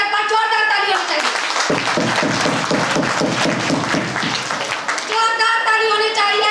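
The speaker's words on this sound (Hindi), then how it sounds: "हम चाहते हैं हमारे बाबूराम सर के लिए एक बार जोरदार ताली होनी चाहिए," Crowd at a company anniversary celebration giving loud applause for Baburam sir, a sustained wave of clapping that breaks in after a speaker's voice and fades back into amplified talk.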